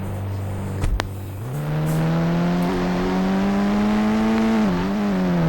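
Defender car engine in the mobile game Indian Bike Driving 3D, a steady synthetic drone that rises slightly in pitch as the car pulls away and holds, heard alone after a brief click.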